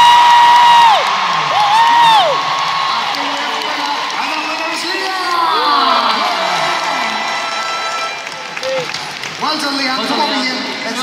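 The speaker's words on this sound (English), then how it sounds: "Oh, if the bride-to-be Leanne is your karaoke queen, scream now" Live audience at a sing-along karaoke show in Nottingham, a large crowd screaming and cheering loudly on cue, piercing whoops rising over the roar, with a host's voice in between.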